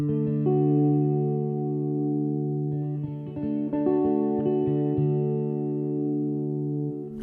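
A sustained, evolving synthetic pad from the Evolution sample library on Pianobook plays dry without delay, holding low layered tones as a few higher notes shift midway, loud and alone.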